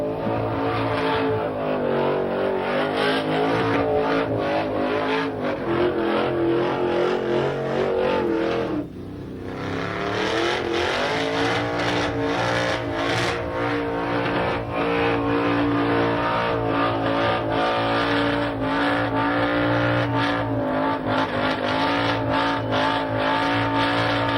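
A car with a 351 Cleveland V8 roars through a sustained burnout at Summernats, loud and close, the engine held at high revs with a brief dip near the middle before climbing back to a constant howl.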